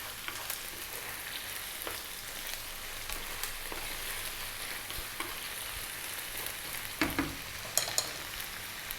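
Garlic ginger paste sizzles quietly in a pan for aloo gobi, a soft steady crackle with a few sharper clicks and taps of a utensil near the end.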